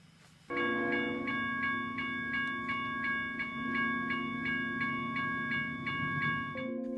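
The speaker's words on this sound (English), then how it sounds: "Now there are 2 trains coming, both eastbound" Eastbound trains in the Mojave Desert: a loud, sustained horn-like tone begins suddenly and holds, pulsing with a regular ticking, clanging beat, like a crossing bell beside the tracks, then shifts pitch near the end.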